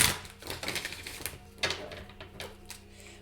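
Tarot cards shuffled by hand, giving a quick run of crisp, close riffling clicks and soft slaps in irregular bursts, with a few sharper snaps standing out.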